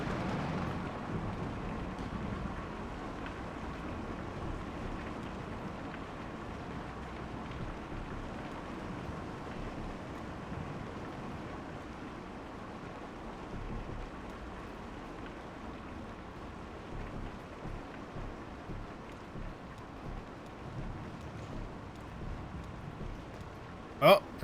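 Steady rain falls in the video game Kentucky Route Zero, a continuous soft hiss with a low rumble, holding at an even level throughout, with a brief sharp click near the end.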